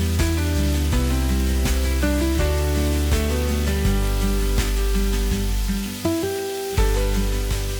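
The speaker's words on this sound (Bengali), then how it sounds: "ম্যারিনেট করে রাখা চিকেনটা আমি দিচ্ছি। এবার টমেটো দিচ্ছি, দিয়ে এটাও একটু ভালো করে কষিয়ে নিচ্ছি।" Marinated chicken and tomato sautéing in a pan, a loud constant sizzle under steady background music with strong rhythmic accents, close and continuous, no voices.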